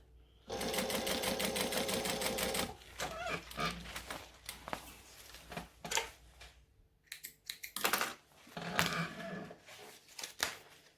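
A sewing machine stitches a card slot in a short rapid burst, followed by scattered clicks and handling knocks as the work is moved, close and fairly quiet.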